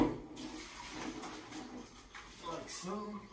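Water from cooked stir-fry noodles pouring out and splashing into a sink, a steady rushing flow close by that rises in bursts near the end.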